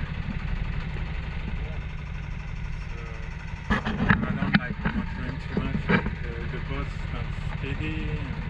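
A diesel engine hums and idles aboard a 29 ft sailboat at sea, a steady low drone under continuous close talk, with a few knocks and rattles midway.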